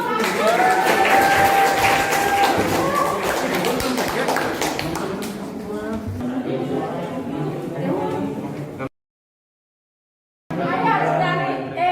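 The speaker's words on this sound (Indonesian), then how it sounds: "Kasih aplaus dulu" Classroom applause from a group of students for a team about to present, a dense burst of clapping and chatter in the first several seconds that thins out, then a brief drop to silence before crowd noise returns.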